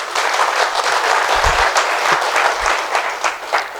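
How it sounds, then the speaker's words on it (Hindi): A seminar audience at a company's first-anniversary celebration claps steadily and densely for the whole stretch, loud and close, with no pauses and no voices over it. "मैडम ताली मारने की इच्छा है तो मार लेना बिना किसी दिक्कत के साथ"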